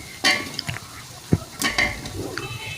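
A kilo of potatoes gets stirred in a red spicy tomato masala, with scattered spoon scrapes and clinks against the pot over a soft sizzle. One sharp knock stands out midway, and the sound is fairly close.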